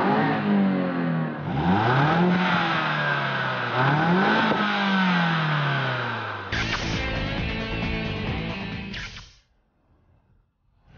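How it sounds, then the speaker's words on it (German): Opel Astra GTC with a 2-litre turbocharged four-cylinder accelerating hard, engine note rising loud and droning through several gear shifts before cutting off to near silence at the end. "Eher unspannend der Sound im Astra GTC. Mehr Dröhnung als sonore Tönung."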